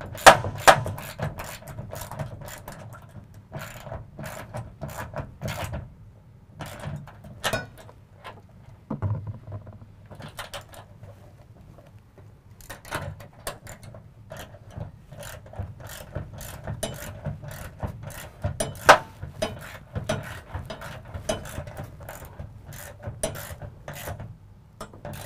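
A ratchet tightens bolts while a DiamondBack SE tonneau cover is installed on a truck bed rail, giving close, repeated bursts of quick clicking separated by brief pauses, with no speech.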